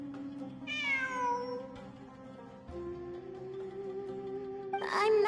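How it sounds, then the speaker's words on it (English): A cat meows several times in a row, a clear rising-and-falling call heard up close and alone, with a sharper cry near the end. "I'm not hearing things. It really is a cat."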